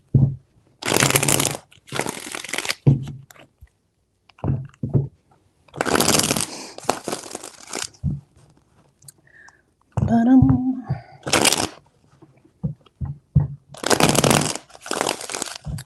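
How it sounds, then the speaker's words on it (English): A deck of cards being shuffled three times in quick riffling bursts, each a crisp, papery rush separated by short pauses, with a soft murmured voice in between. "Three shuffles."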